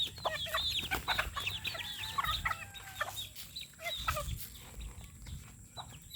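Chickens and chicks being fed rice cluck and peep busily at close range, a steady overlapping chatter of short calls with faint rustling underneath.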